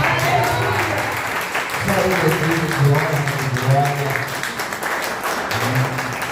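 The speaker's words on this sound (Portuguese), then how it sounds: "O aplauso é para Jesus, pode ser mais forte." Church worshippers applaud for Jesus in a Portuguese-language service, a continuous patter of clapping that runs beneath a voice speaking loudly over it throughout.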